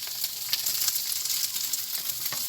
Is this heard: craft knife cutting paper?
no